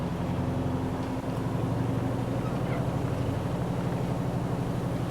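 The Kodiak, a heavy armored vehicle in Wasteland 3, drives with a steady, loud low engine drone that holds evenly throughout with no pauses or talk.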